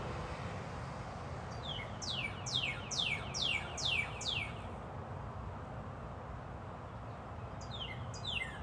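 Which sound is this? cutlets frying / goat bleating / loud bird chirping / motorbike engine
loud bird chirping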